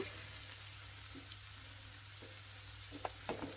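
A bitter gourd and tomato curry cooks in a pan, giving a quiet continuous sizzle with a few soft pops and stirring bumps toward the end, and no one speaking.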